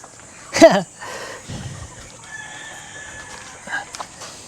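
Backyard chickens on a Philippine farm, with one loud crow or squawk early on, then softer clucks and a faint call later, heard near and clear over quiet surroundings.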